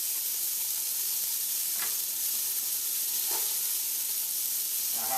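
Diced onions, carrots and celery sautéing in hot olive oil for a turkey rice soup, a steady close sizzle and hiss with a few soft stirring scrapes, no talking.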